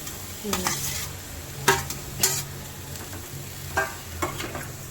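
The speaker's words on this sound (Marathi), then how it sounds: "आता चिरून घेतलेलं भाजी, पुरणाची भाजी चिरून टाकायचं ना." Chopped vegetables go into a hot pan with cumin, sizzling steadily while a spoon stirs and scrapes in several sharp, close bursts.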